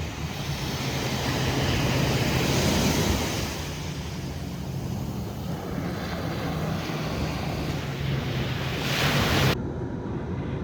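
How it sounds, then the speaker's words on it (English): Loud sea surf at Ferringhi Beach, Penang, with waves washing in continuously and heavy wind rumble on the microphone, no voices. "as you can hear, the water is very loud"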